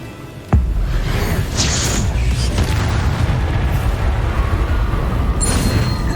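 Incendio fire spell in Hogwarts Legacy erupts with a sudden loud boom and burst of flame, then a sustained roaring, crackling fire rumble continuing close and heavy with a later whooshing flare.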